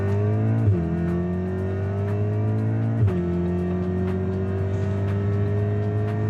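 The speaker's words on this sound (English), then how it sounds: "we're just gonna do a quick pull" A tuned car pulls hard through second, third and fourth gear on a road, its loud engine climbing steadily in pitch, dipping briefly at each of two quick gear changes, then climbing again, with no talk.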